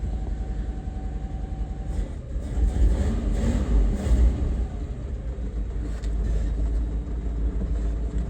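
A 1959 Edsel Ranger car engine runs steadily at idle, a loud continuous low rumble with slight surges, close by and with no talking.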